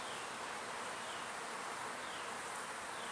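Crowded honey bees in a hive box give off a constant, even buzzing drone that fills the moment without pause.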